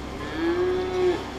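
One cow gives a single drawn-out moo, steady and fairly close, in drought-stricken Texas ranch country.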